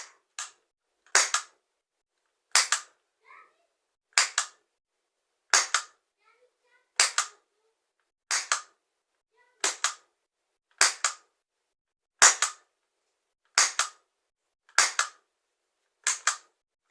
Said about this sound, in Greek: Η καραμπίνα είναι 12 σφαίρες, γι' αυτό και θα ρίξουμε 12 σφαίρες.